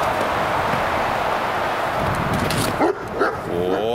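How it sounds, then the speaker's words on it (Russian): A German shepherd guarding its territory gives a couple of short barks near the end, over a steady broadband noise background; the yelps are brief and moderately loud. "Спровоцировал его гавкнуть"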